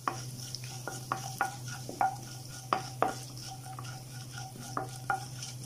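Urad dal and cut dried red chilies fry in oil in a pan under a soft steady sizzle, while a spoon stirs and scrapes at an irregular pace, with clear clicks and taps against the pan.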